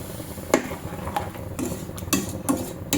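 A spoon knocks and scrapes against a pot while semolina is stirred with cardamom and nutmeg powder, giving a handful of sharp, separate clinks at irregular intervals over a low background, with no talking.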